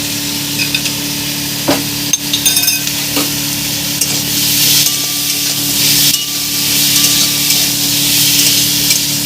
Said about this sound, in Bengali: এটা তেল দেওয়া আছে, আমি হালকা করে নেড়ে নেবো